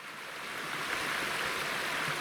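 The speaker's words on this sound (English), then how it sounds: "right after the boardwalk, we have our first creek crossing of the day" Creek water flowing at a backcountry hiking crossing just past a boardwalk, a steady broadband rush that swells slightly and stays continuous, with no voices.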